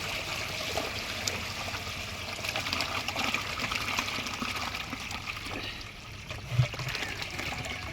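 Water pours steadily into a fish pond as fish are released, a continuous rushing splash with a brief louder surge near the end.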